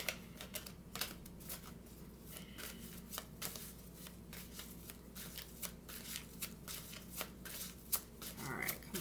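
Art of Life tarot cards are shuffled by hand in a quick, steady stream of papery riffles and soft slaps, close and clear over a faint background hum.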